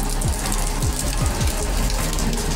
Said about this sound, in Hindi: यहाँ हो रही थी बारिश